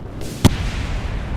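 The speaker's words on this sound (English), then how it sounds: "I dropped them so close that their explosion radius completely killed me." A single sharp bomb blast in the Kerbal Space Program game, a short loud burst that stands out above a steady low rumble of engine noise.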